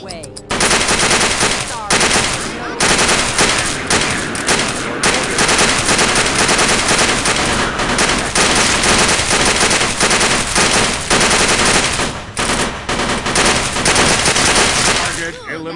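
Loud, sustained automatic gunfire in the PC tactical game UFO: Afterlight, dense rapid bursts filling the whole stretch with brief gaps and occasional voice callouts in the mix.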